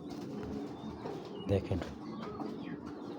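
Racer pigeons, large and active, giving soft low coos near at hand, with a brief flurry of louder calls midway and someone speaking quietly over them.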